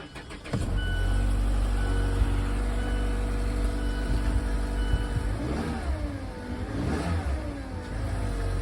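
A Mazda6 Touring engine starts by push button after a brief click, then idles smoothly and revs up twice, close by with no talking.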